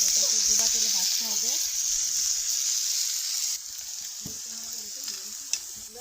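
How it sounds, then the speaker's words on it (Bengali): Potato slices deep-fry in hot oil for crispy potato beresta, a bright, steady sizzle that slowly fades, with a faint voice murmuring underneath and one sharp clink near the end. "এটা তেলে ভালো করে তেলটা গরম করে নিয়ে পরে এটাকে ডুবা তেলে ভাজতে হবে"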